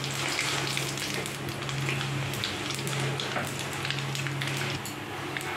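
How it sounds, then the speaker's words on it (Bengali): Dried red chillies, bay leaf and black cumin sizzle steadily in hot oil as a tempering for a pumpkin-greens and prawn dish, a dense close crackling hiss that holds evenly throughout with no talking. "তেল গরম হয়ে গেছে, আমি শুকনো লঙ্কার তেজপাতা ফোড়ন দিয়ে দিলাম আর দিয়ে দিলাম আমি কালো জিরে"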